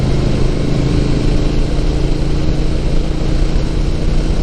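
A motorcycle engine drones steadily under throttle while riding the Hakone Turnpike in Japan, a continuous close rumble with no clear gear changes or pauses.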